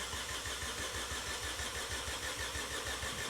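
Vauxhall Corsa engine cranking over on the starter motor with the car raised and wheels off the ground, a steady rapid rhythmic churning pulse throughout, close and loud with no talking.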